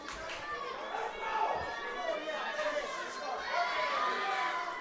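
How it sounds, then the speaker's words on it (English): Crowd at a high school powerlifting nationals meet erupts in loud sustained cheering and shouting after a good lift, a dense continuous roar of many voices throughout. "that's a good lift for Dawson Young, and the crowd explodes."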